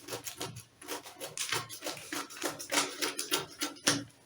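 Scissors cutting through fabric for an off-shoulder dress pattern: close, rhythmic snipping and rustling strokes in a steady series, with light shuffling of cloth.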